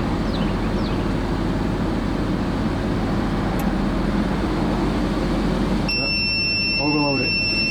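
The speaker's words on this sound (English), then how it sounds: "that beeping sound you heard was it drawing too much current" An EcoFlow Delta 2 portable power station sounds its high-pitched electronic overload alarm after cutting off under more than 1,000 watts of cooking load, the sustained tone coming in abruptly near the end over a loud, steady background hum.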